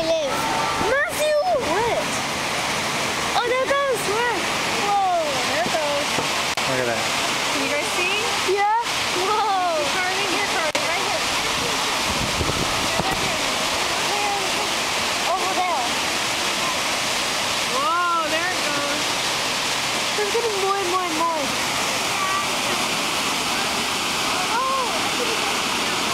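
Rushing, roaring water at the Aratiatia Rapids as the dam gates open, a steady broadband torrent that continues throughout, with people talking over it at intervals.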